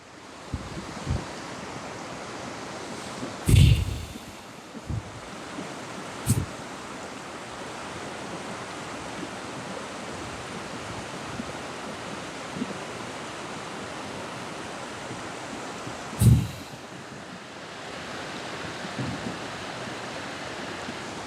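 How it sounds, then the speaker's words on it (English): A river flows steadily in an outdoor setting, a continuous broadband wash of water that stays even throughout. A few brief thumps stand out from the flow. "enjoying the sound of the river."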